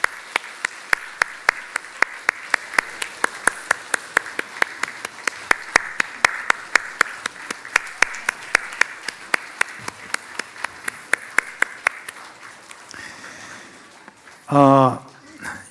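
A church congregation claps in a fast, steady rhythm during a Sunday service, dense and fairly close, for around twelve seconds before the clapping stops and a voice briefly speaks.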